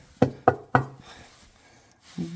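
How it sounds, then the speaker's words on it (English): Three sharp knocks on the engine bay of a 1980 Chevrolet Scottsdale square-body truck parked for 26 years, evenly spaced and close, followed by a softer thud. "So should probably knock, see if anyone's home."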